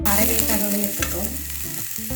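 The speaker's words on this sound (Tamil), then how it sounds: "இப்போ வந்து முட்டைக்கோஸ், குடமிளகாய், கேரட் எல்லாம் போட்டு வதக்கிக்கலாம் நல்லா." Cabbage, capsicum and carrot stir-fried in a hot pan give a steady close sizzle with brief scraping stirs, heard alone with no talk.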